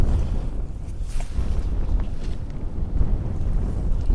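Strong wind on a sailboat at sea buffets the microphone in a constant, loud rumbling roar, with gusts rising and falling and no voices.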